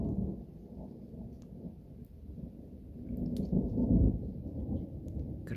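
Low thunder rumbles through a rainy day heard from a small forest cabin, a deep rolling growl that swells toward a louder peak midway, then eases, with faint crackles of rain above it.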